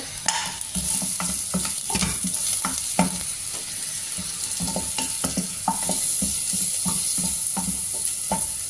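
Butter sizzles steadily in a frying pan for mushroom soup, a loud, constant hiss with intermittent stirring scrapes and light knocks close by.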